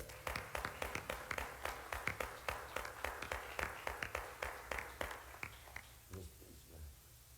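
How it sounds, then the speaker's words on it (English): An audience at an NAACP DeKalb Black History Month program claps in praise, a steady run of distinct, fairly quiet hand claps at an even pace for about six seconds before trailing off into room noise. "Let's give the Lord a hand clap of praise."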